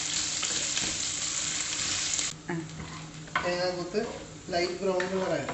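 Small coconut pieces sauté in a pan for Kerala-style beef, a steady frying hiss that turns into bursts of clattering spatula scrapes and stirring in the second half.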